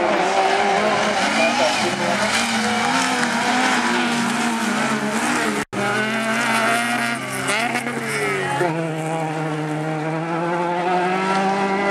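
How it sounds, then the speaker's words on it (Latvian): Five class 5 autocross race cars pull away from the start together, their engines roaring loud and continuous with climbing revs and tire noise, while a commentator talks over them. "autokrosa klases 5 dalībnieki aizbrauc no starta"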